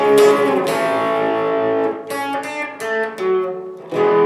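A distorted electric guitar plays a short riff from a song in ringing notes that sustain and fade, then picks up again with a few quicker phrases.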